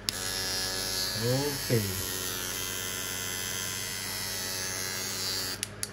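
A Buddha-brand trimmer fitted with a modified wide blade runs steadily, giving a constant electric buzzing hum throughout with a brief voice early on.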